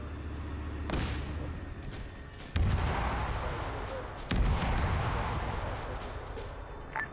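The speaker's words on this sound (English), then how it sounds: "Good effect, mortars." Mortar rounds and gunfire in a Vietnam War video game, with several heavy booms landing near 1, 2.6 and 4.3 seconds over a steady rumble of battle, while voices talk over it.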